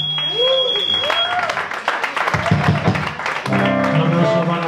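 A crowd applauds for a band at a metal festival, a moderately loud burst of clapping mixed with a voice over a PA and ringing stage tones.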